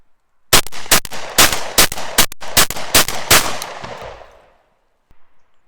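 A Benelli M2 recoil-operated semi-auto shotgun with a 28-inch barrel fires a rapid string of about ten loud, close shots, each ringing off briefly, then one last faint shot after a pause.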